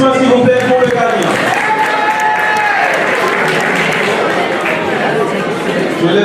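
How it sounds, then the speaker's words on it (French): Crowd applause for a prize winner at a live challenge event in Paris, sustained loud clapping with chatter and voices mixed in throughout. "Vos applaudissements, s'il vous plaît, pour le gagnant."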